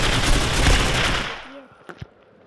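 An M4 assault rifle in the Critical Ops shooter game fires a loud, rapid automatic burst of about a second, then cuts off, leaving a few faint clicks and handling sounds.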